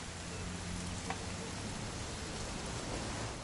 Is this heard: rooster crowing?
no